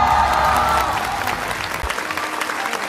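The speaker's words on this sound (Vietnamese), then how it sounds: "một tràng pháo tay nữa cho Tấn Bảo và Thái Hà." Studio audience at a Vietnamese televised children's singing show applauds for two young performers, a loud, dense burst of clapping that fades toward the end.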